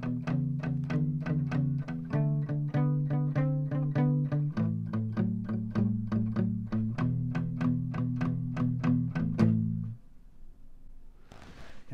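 Electric guitar with effects plays the last four bars of a 12-bar blues riff, starting on E, with steady repeated plucked notes that shift chord every couple of seconds and end on a held note; no voices.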